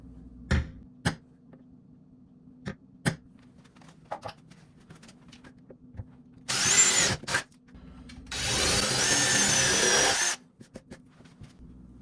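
A power drill with a larger bit bores a hole for a door chain guard anchor in two whining bursts, one short and one longer. Sharp knocks and taps come between the bursts.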